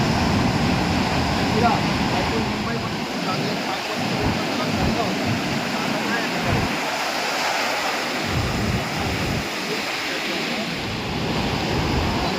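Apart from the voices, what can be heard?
sea waves breaking on beach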